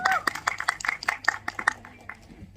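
Scattered applause from a press conference audience in Delhi, a burst of irregular hand claps that thins out and fades over a couple of seconds.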